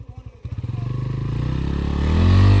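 A motorcycle being ridden starts with a few rhythmic engine chugs, then rises into a loud, close, steady revving drone as the throttle opens.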